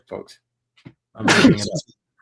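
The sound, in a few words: sneeze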